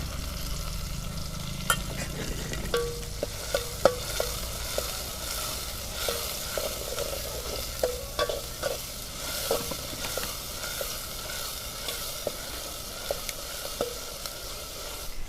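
Tomatoes frying in a pan with chilli and garlic paste stirred in for a drumstick (saragva) curry: a steady broadband sizzle runs throughout, punctuated by scattered clicks and scrapes of a spoon stirring, with no talk.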